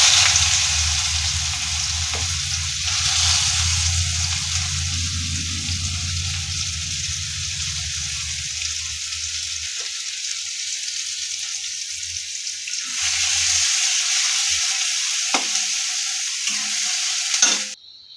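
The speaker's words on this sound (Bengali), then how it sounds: "ওই তেলের মধ্যেই আমি পেঁয়াজটাকে আর রসুনটাকে দিয়ে দেবো" Onion and garlic fry in oil with a steady, close sizzle while a utensil stirs and scrapes the pan, the sizzle thinning out midway and swelling again near the end; no one speaks.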